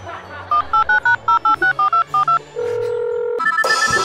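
A mobile phone keypad being dialed, a quick string of about ten short DTMF tone beeps in steady rhythm, followed by a sustained ringback tone and a louder ringing burst at the end, clear and close with no talk.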